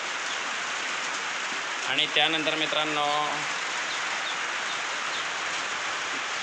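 Steady rain falls outside in Jalgaon, the first unseasonal shower of the Chaitra month, a dense even hiss throughout with a brief burst of speech near the start.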